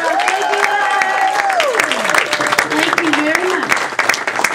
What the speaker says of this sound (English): Can we give our international teachers another round of applause?